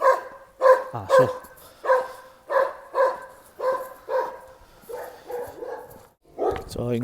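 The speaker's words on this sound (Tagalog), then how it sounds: "Ito lagi tumatahol to pag dumadaan ako" A large dog barks over and over in a steady, insistent rhythm, close by and loud, about a dozen deep barks in a row outdoors in the Czech Republic.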